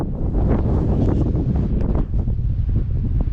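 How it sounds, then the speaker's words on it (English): Strong wind blasts across an open outdoor spot, a continuous loud roar buffeting the microphone with gusty rumbling and no letup throughout. "It is windy as hell out here."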